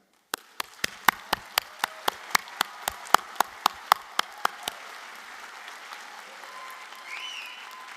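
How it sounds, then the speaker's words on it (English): Graduates and guests at a Trocaire College commencement applaud, starting with sharp, evenly spaced claps close by that blend into a soft crowd clapping before fading out. "share and applaud for your hard work and accomplishments"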